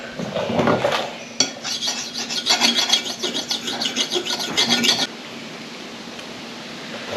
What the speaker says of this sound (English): I can file on it a little and not have to worry about hurting it